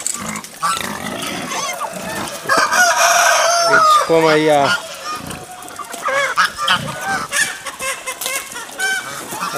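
Farm chickens and pigs clucking, squawking and grunting together in a loud, busy chorus, with someone speaking briefly among them.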